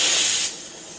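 An oxy-acetylene welding torch in a shed hisses loudly as oxygen is fed into the flame, a bright rushing burst that drops to a steadier, quieter roar after half a second.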